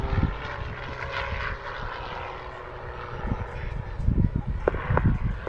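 A Pitts aerobatic biplane's propeller engine drones steadily through a victory roll, the tone shifting as the manoeuvre goes on, with louder rumbling bursts near the end.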